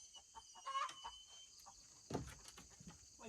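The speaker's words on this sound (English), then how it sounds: "Chasing a chicken." A chicken being chased down a sidewalk clucks in short, scattered squawks, faint and somewhat distant, over a low outdoor background with occasional scuffling.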